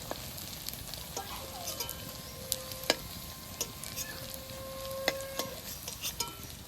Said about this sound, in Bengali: পনিরগুলো এরকম লাল লাল করে ভেজে নেবেন